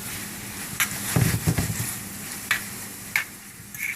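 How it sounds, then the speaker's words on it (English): Garlic sizzling in a pan for shrimp scampi while being stirred, a soft steady frying hiss with a few scraping knocks of the spoon, close by and with no talking. "And then we're going to make sure that you use lots of garlic. Give that a stir around."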